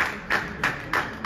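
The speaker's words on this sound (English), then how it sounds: "Give Jesus a clap offering." A church audience at a holy communion service claps in a slow, even rhythm, four or five distinct claps close by with no talk over them.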